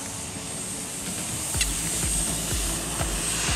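A radio-controlled F-15 Eagle jet with twin 64mm ducted fans runs at full throttle, giving a loud, continuous high-pitched whine and rushing roar that stays steady throughout.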